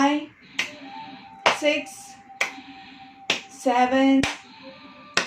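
Sharp, spaced hand claps during a group yoga exercise for COVID-19 patients at a care centre land roughly once a second. A woman counts aloud between the claps.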